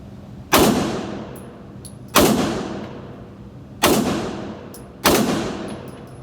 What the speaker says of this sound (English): the first ones I'm gonna do, it's gonna be 5 shots, just to see where I'm at and to see how the weapon is functioning